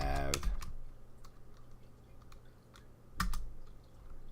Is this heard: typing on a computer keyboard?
yes